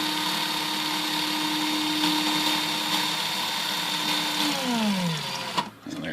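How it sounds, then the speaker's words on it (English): A power drill winds a metal typewriter ribbon spool, whining steadily at high speed, then spinning down with a falling pitch and stopping near the end. "make sure the drill's going the right way"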